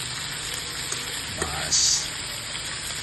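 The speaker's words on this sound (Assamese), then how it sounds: "শুকানকৈ ভাজি লওঁ আৰু অলপ" Chicken pieces coated in spices dry-frying in a pan at home for an Assamese local chicken dish, giving a steady soft sizzle and crackle throughout, with a brief spoken word over it.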